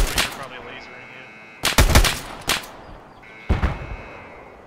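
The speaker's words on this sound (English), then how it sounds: "I'm being shot at." Gunfire in the video game Escape From Tarkov: several sharp, loud shots in separate bursts, some close together, each trailing off with an echo, with a brief voice in between.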